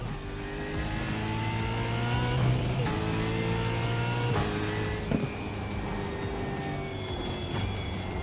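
A Chevrolet Camaro engine drones steadily while driving, with a sustained tire squeal whine over the rumble and a brief thud midway.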